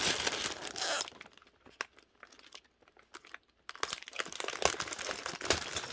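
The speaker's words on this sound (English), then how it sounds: "They have taped these bags together, so I'm going to carefully get them apart" Plastic Lego bags taped together are carefully pulled apart, giving close crinkling, crackling and tearing of plastic and tape in two loud stretches around a quieter middle with scattered sharp crackles.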